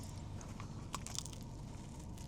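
A crunchy pastry from a luxury bakery on Saint Barth is bitten into, giving a few crisp crackling crunches close up over a low rumbling outdoor background.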